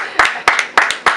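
Four sharp, evenly spaced claps ring out close and loud from the audience greeting a guest artist, Picasso de Conscience, with no talking over them.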